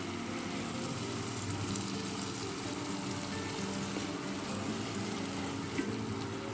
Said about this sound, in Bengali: এইভাবে করে এটাকে কষাতে থাকবো যতক্ষণ না তেল ছাড়ছে